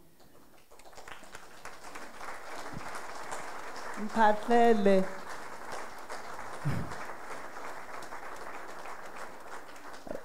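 Audience applause at a memorial event, a steady wash of clapping for the Mphahlele family, with a voice speaking briefly over it in the middle.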